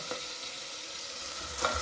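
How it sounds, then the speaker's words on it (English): Tomatoes sizzle in a hot pan for a spaghetti tomato sauce, a soft, steady frying hiss close by with faint stirring touches, no voices. "you add the tomatoes. You can hear the sizzling"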